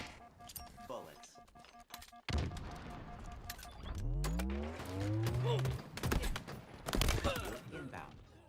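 Gunfire in a Halo eight-player free-for-all match on a close-quarters map: scattered bursts and sharp shots at varying distances, mixed with other game effects, impacts and a passing vehicle-like swell.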